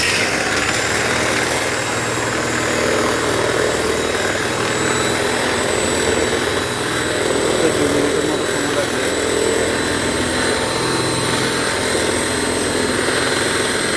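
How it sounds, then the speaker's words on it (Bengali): An electric beater whips egg whites into foam for a waffle batter, giving a loud, steady motor whine that runs unbroken throughout. "ফোম করতে হলে আপনার লাগবে এক বিটার। এক বিটারের সাহায্যে ফোম করবেন।"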